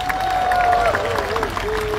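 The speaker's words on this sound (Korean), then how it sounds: "이 승자들 위해서 큰 박수 부탁드리겠습니다." Applause for the award winners at the 2022 Sangsang Fashion Runway in a craft museum, a steady wash of clapping from a crowd with a held, wavering tone riding over it for about two seconds.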